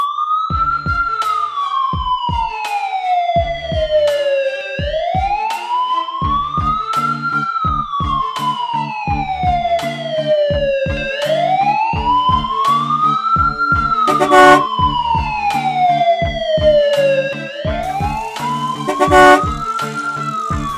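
An ambulance siren wails loudly and close by, rising and falling in long repeated sweeps, with other tones and sharp bursts mixed in and no talk over it.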